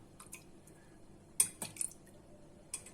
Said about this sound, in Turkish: Sütümden şöyle kaşıkla alıyorum peynirimin içerisine. Güzelce karıştıracağım.